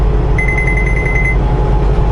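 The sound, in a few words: car lane departure warning beeping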